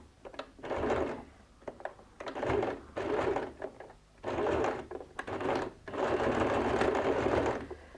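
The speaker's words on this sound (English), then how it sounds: "then I start sewing in" A sewing machine stitches bias binding in four bursts of rapid whirring, each lasting about a second, with brief quiet gaps and small mechanical clicks between runs.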